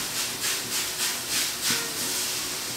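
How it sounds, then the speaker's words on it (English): Vegetables sautéing in a wok with sesame oil and rice vinegar, a soft steady hiss that swells and fades in a regular rhythm as if being tossed, fairly quiet and without talk. "Mom's actually frying in a wok because I like the way that it sautés the vegetables."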